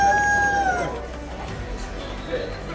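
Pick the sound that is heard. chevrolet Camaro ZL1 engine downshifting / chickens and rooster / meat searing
chickens and rooster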